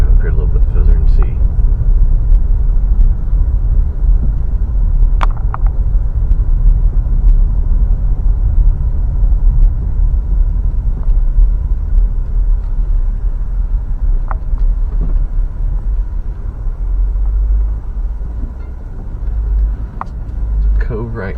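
A car drives slowly through a lakeside park in Waterloo, Illinois, with a continuous low engine and road rumble throughout, steady and close.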